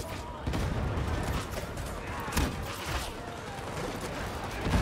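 Explosions and gunfire in the video game Warhammer 40,000: Darktide, a dense rumbling barrage of blasts and bursts throughout, with a voice speaking faintly underneath.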